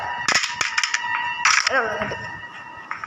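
Gunfire in the horror game Granny pops in quick, sharp bursts over steady electronic tones. A couple of louder shots stand out.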